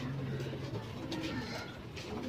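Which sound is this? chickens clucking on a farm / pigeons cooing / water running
pigeons cooing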